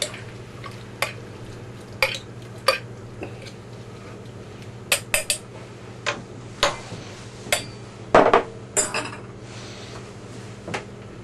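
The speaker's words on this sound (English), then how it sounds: "We're going to stir it well." Pork and sauerkraut being stirred in a cooking pot, giving scattered clinks and knocks of a utensil against the pot at an irregular rhythm over a low steady hum.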